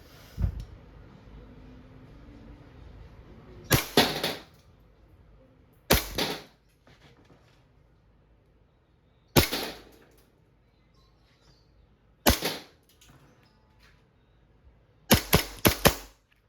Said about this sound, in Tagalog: Silver gas blowback airsoft pistol made in Taiwan. Firing.